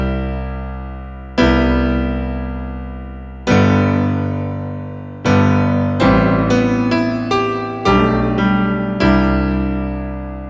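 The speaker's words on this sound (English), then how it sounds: "That's why I bought the grand piano EXZ file, which sounds like this." A grand piano patch played on a Boss GM-800 guitar synthesizer: single notes and chords struck one after another, each ringing out and decaying, with a quicker cluster of notes near the middle. No speech.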